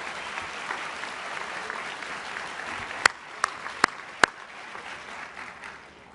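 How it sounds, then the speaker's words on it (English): A commencement crowd at City College gives a broad round of applause for district colleagues, steady and moderately loud, with a few sharp, close claps standing out near the end. "Please join me in a round of applause for our district colleagues."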